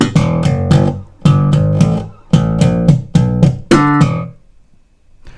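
A slap bass guitar plays bars 7 and 8 of a riff, with punchy slapped and popped notes in quick rhythmic clusters, loud and close, ending on a ringing note.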